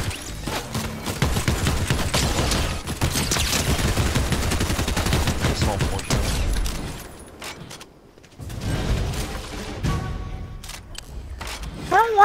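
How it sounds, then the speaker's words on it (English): Rapid bursts of automatic gunfire from a Fortnite match crackle through most of the stretch, dense and loud, dropping out briefly near the end before more shots and game noises return, with players talking over it. "Someone's shooting at one of us."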